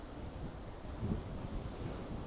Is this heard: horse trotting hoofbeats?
no